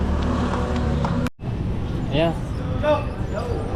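A motor tricycle's engine rumbles steadily close by, cuts out abruptly for a moment, then resumes under a brief spoken word.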